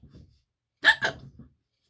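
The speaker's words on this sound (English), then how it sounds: "he got the hiccups." Two sharp, close hiccups in quick succession, each a short breathy gulp, set against near silence with a few faint low murmurs before and after.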